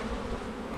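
Honey bees at an opened hive in January hum in a dense, continuous buzz, close and steady through the brief moment, with no talking over it.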